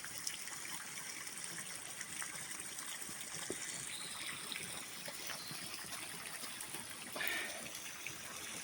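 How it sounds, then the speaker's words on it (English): Running stream in a forest during rain, foamy water trickling and gushing in a steady, faint wash with a soft hiss and no voices. "Yeah, the rain's coming down again now. It's nice to see running water again."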